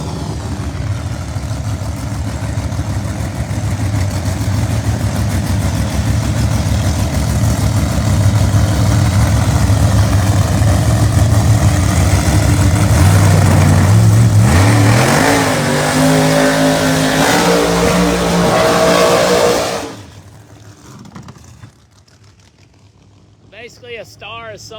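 A supercharged Pro Mod drag car at Bradenton Motorsports Park roars loud and close, its engine building to a harsh revving peak before cutting off sharply near the end, leaving quiet ambience with an announcer talking over the run.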